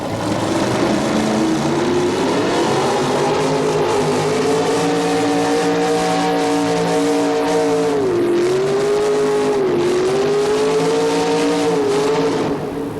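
A Mountain Motors Chevrolet drag racing car runs down the track at a 1987 Birmingham event, its loud, sustained engine roar rising and dipping in pitch, with a crowd or track ambience behind it.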